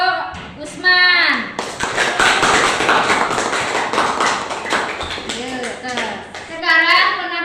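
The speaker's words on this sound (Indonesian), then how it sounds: "Mari kita tepuk tangan buat kelompok Usman." A classroom group of students bursts into applause for a student group, a dense wash of many clapping hands lasting several seconds, with a teacher's voice speaking before and after.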